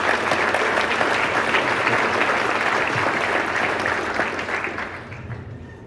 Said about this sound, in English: Let's give our moderator a round of applause.